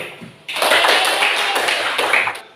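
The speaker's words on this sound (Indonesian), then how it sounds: "Berikan aplaus dulu" Applause for a group's presentation in a classroom, a short burst of many hands clapping together, fairly close and steady for about two seconds before tapering off.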